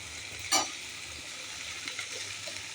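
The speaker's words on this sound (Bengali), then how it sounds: "মশলাটা ভালো করে একটু করব, ভালো করে ভাজা ভাজা করে" Spice paste fries in a pan while being stirred, giving a quiet, steady sizzling hiss with a brief scraping stir near the start and a few faint clicks after.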